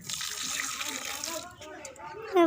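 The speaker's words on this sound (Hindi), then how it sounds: "अब इसमें हम पानी डालेंगे।" Water poured from a tap or jug onto crushed jaggery in a pan while making jaggery halwa, a steady splashing gush for about two seconds that ends in a brighter splash, with faint kitchen background.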